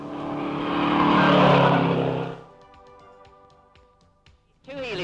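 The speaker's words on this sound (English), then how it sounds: "Two Healy's coming into the corner here." Two Austin-Healey sports cars roar loudly into a corner at Gamston race circuit. The engine note swells for a couple of seconds, drops away to a distant drone, then another engine rises sharply at the end.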